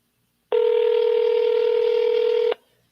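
A telephone sounds a single steady dialing tone for about two seconds, loud and clean, starting and stopping abruptly with silence on either side.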